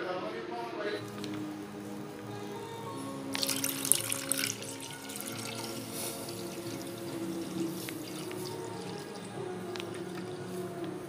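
Water pours into a pan before milk is heated for kulfi, a soft splashing trickle in a home kitchen that swells briefly louder, heard under someone speaking.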